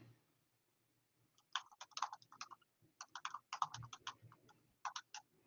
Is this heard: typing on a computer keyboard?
yes